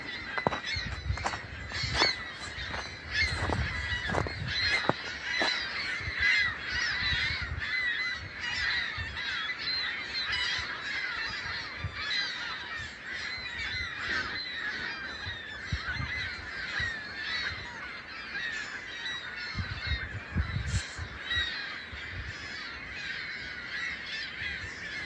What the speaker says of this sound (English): I'm going to stop talking for a minute or so and let the seagulls do the talking.